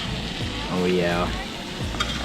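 Skillet food sizzles while cooking at a lakeside campsite, a soft, steady frying hiss close by with a voice speaking briefly over it.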